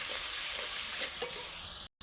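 Ginger, tomato and spiced water sizzling in hot oil in a pan, a steady close frying hiss with faint stirring scrapes, cutting out briefly near the end.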